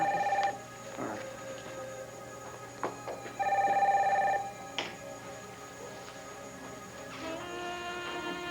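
A telephone rings in an office on a 1991 television soap. Several short electronic ring bursts come at uneven intervals over a quiet, hissy background, with some faint clatter between them.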